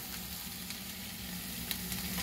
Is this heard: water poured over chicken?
no